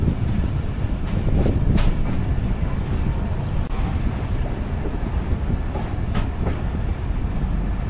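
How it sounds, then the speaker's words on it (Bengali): A Joydebpur commuter train pulls into Joydebpur railway junction station, its rumble steady and loud with clattering wheels and a few sharp squeals and clanks as the cars roll in. "জয়দেবপুর কমিউটার তার শেষ গন্তব্যস্থল জয়দেবপুর রেলওয়ে জংশন স্টেশনে দুপুর 12টা 30 মিনিটে প্রবেশ করলো"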